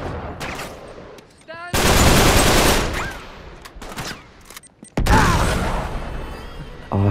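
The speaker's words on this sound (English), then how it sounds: "I threw the old grenade back at him." In the Uncharted 3 video game, heavy bursts of rapid gunfire and a booming grenade blast erupt in loud, overlapping waves with brief gaps between them.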